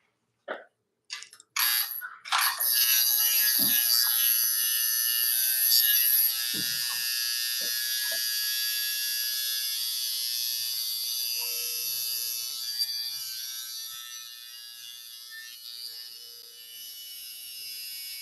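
A new coil tattoo machine buzzes with a steady, loud, high-pitched electric hum that runs continuously for most of the stretch after a few brief clicks and starts at the beginning, slowly fading slightly toward the end.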